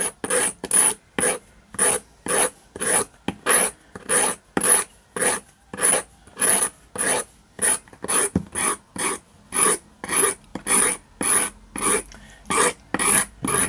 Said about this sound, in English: Oh, I need my nail file, don't I?